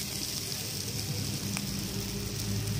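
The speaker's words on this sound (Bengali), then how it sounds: "মশলাটা কষানো হয়ে গেছে, এবার আমি পরিমাণ মতো জল দিয়ে দেবো।" Water splashing into fried, browned masala in a pan for Katla fish curry, with a steady loud sizzle and hiss throughout and no voices.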